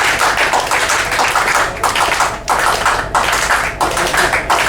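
Audience clapping along in a quick three-beat rhythm at a charango concert, steady repeated bursts of many hands with short regular gaps, loud and close, no talk.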